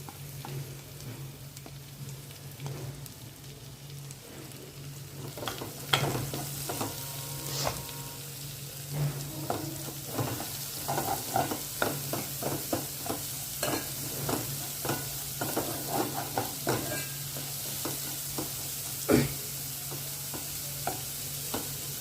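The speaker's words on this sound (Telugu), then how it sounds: "అదే కడాయిలో మనం చాప్ చేసి పెట్టుకున్న ఉల్లిపాయలు పచ్చిమిరకాయలు కూడా వేసుకొని వేయించుకుందాం" Chopped onions and green chillies sizzle in a kadai while a spatula stirs and scrapes in a loose, repeated rhythm, a close, continuous frying hiss with no speech.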